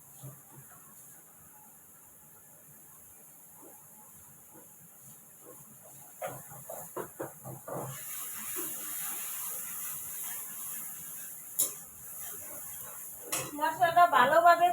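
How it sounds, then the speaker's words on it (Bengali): A spice paste of ground turmeric, ginger and onion fries in a pan, starting as a faint low sizzle that swells into a louder, steady hiss broken by scrapes and clinks of a utensil against the metal. "মশলাটা ভালোভাবে কষাইতে হবে।"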